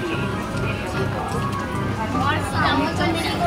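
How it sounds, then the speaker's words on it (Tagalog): Steady rain falling on a Monday outing in Paris, a continuous dense hiss of drops on surfaces throughout, with people talking over it. "Umuulan pa rin kasi."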